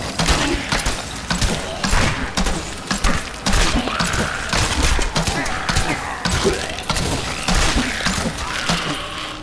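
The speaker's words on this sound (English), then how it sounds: "Yeah, do some grenades." Grenades thrown by the Demon Hunter in Diablo 3 burst in dense, rapid thuds and crackling blasts amid busy game combat sounds, with voices talking over the steady clatter.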